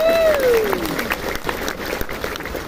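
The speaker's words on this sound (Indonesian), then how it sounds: "sekali lagi saya ajak saudara berikan tepuk tangan." Applause from the audience at the NasDem national meeting rises briefly as a dense patter of clapping, with a sliding tone fading out at the start and crowd noise underneath.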